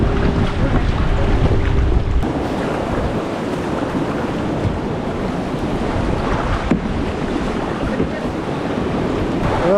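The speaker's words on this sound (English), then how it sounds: "Wow, look at the waves now." Ocean waves rock a kayak near the sea cliffs and caves of Ponta da Piedade in Lagos, Portugal, heard as a continuous loud wash of surf and water with heavy wind buffeting, and no talking.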